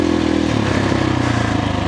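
A motorcycle with a Dobeck EJK fuel controller and an enlarged Fastway ProMoto billet exhaust end cap idles loud and close, its exhaust putting out a rapid, steady, chugging pulse with no talk.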